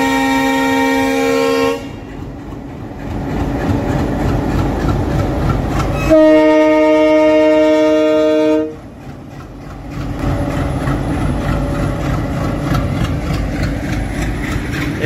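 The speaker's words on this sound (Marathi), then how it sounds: "डबल इंजिन लावलेलं आहे या ट्रेनला" A train hauled by a double locomotive arrives at Beed, loud and close, with heavy engine rumble and rolling wagons and long blasts of its horn, the second blast strongest, no speech.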